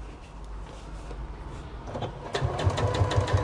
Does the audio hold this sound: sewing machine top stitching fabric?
yes